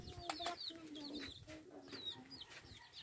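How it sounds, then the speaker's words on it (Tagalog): Chicks peeping around a rural farmyard in hot weather, with many high, thin chirps repeating at close range alongside deeper clucking from adult chickens and faint background voices. "ang daming sisiw"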